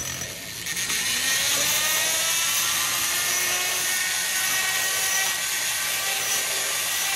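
A rotary tool grinds a rough cut in the port of a 2001 Honda CR125 two-stroke cylinder, a loud, sustained high-pitched whine that starts after a brief lower buzz and runs steadily.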